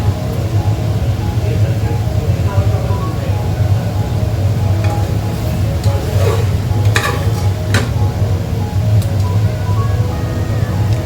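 Masala for mutton yakhni pulao cooks down in a pan with a little hot water into a thick gravy, a loud steady bubbling hiss with a few stirring clicks near the end.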